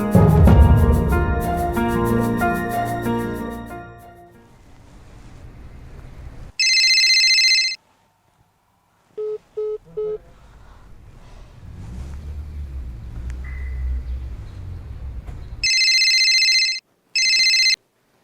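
A telephone rings loudly in repeated bursts of bright electronic tone, separated by gaps, after music at the start. Quieter sounds fill the stretches between the rings.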